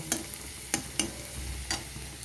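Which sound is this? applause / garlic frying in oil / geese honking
garlic frying in oil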